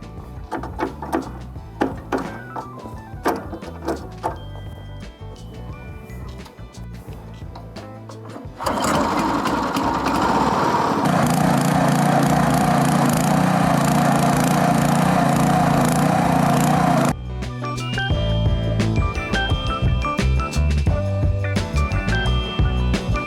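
An FTL820 cultivator fitted with a fast-spinning ditcher blade cuts a water channel in the ground. Its engine roars loud and steady for several seconds, with knocks and rattling from the machine before and after.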